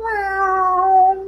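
A Kenku imitates a cat with one long, drawn-out mew, loud and close, sliding slowly downward in pitch with no other sounds around it.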